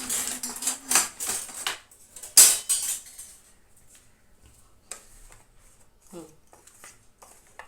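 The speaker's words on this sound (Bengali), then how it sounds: "দেখতেই পাচ্ছেন আমি মেশাচ্ছি" A utensil stirs doi fulki batter in a bowl, giving sharp clinks and scraping taps in quick irregular bursts that thin out into quieter scattered knocks, with a voice speaking faintly at times.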